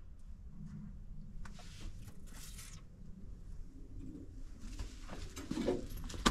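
Pigeons or doves nesting inside a crashed B-52C Stratofortress wreck in the Maine woods coo softly amid a steady rustling background, with scattered short bird calls and shuffling sounds throughout.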